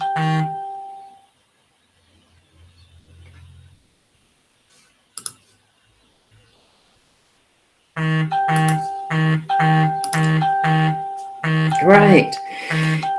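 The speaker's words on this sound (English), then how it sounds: "I've got all the beeps for the notifications coming through my phone" A faint tone and a sharp click, then a rapid series of repeated phone notification beeps ending in a warbling chime, close and clear.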